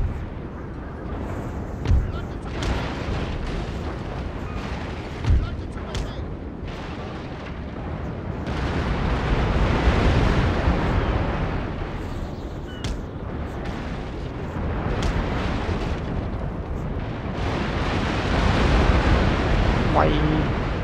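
Warship cannons firing in Napoleon Total War naval battle, dull booms and blasts scattered over a rumbling, noisy battle bed, with a voice talking over the action.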